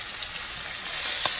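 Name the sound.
seasoned chicken sizzling in pan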